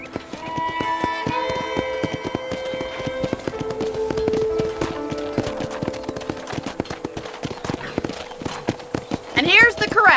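Horses walk with steady, close clip-clop hoofbeats in the Red Dead Redemption western video game, under a background music score and speech, with a brief whinny near the end.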